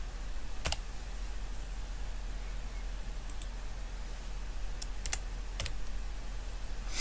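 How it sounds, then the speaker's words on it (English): Keystrokes on a computer keyboard, a few sharp, isolated clicks and short bursts of taps spread across a quiet room, faint and close with long gaps between them. "Type D4 through D18 in the Range text box."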